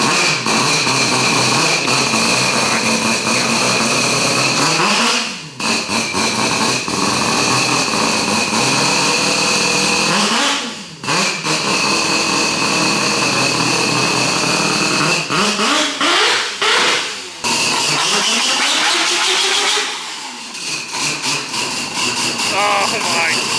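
The engine of an Australian drift car with a Hollinger sequential gearbox roars loud and close, revving hard and holding high for long stretches, with a few sharp drops off throttle before climbing again.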